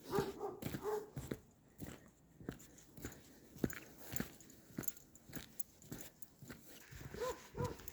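A dog moves around nearby, panting, sniffing and making short snuffling sounds in an irregular rhythm, fairly quiet with no talking.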